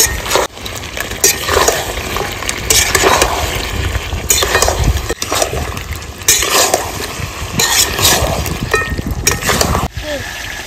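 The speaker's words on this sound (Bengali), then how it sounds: "চাপাটা খুলে মাংসটা নেড়ে নেব" Mutton curry being stirred in an open pan in a village kitchen, with continuous scraping and sizzling of spoon against metal and frying sounds, steady and close, with brief pauses between strokes.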